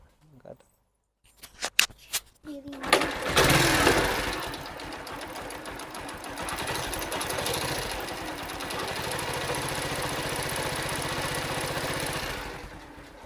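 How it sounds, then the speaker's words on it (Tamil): A used motorcycle engine runs steadily at close range after a few sharp clatters at the start, a continuous mechanical rattle holding until it stops near the end. "இந்த இன்ஜினோட சவுண்டு கேளுங்க."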